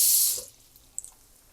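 Water pours from a tap into a pot for rice during gumbo cooking, a loud rushing stream for under half a second that cuts off, then a few faint drips and clinks.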